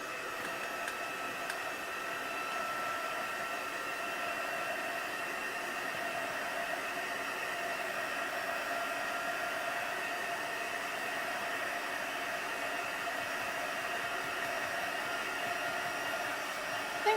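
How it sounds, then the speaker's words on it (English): A craft heat tool blows hot air over inked paper vase cutouts, a steady, even whooshing hum that holds at the same level from start to finish with no talk. "I'll just give those a quick little blast with my heat tool."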